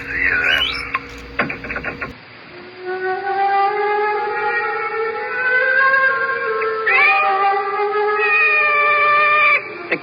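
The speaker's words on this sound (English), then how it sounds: "The cat's awake." A cat lets out a long, drawn-out, wavering meow lasting several seconds, loud and close, after a brief clatter at the start.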